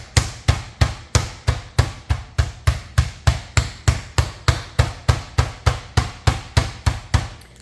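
A mallet repeatedly pounds chicken breast thinner for chicken cordon bleu, about twenty-five sharp, evenly spaced thuds in a steady, close rhythm.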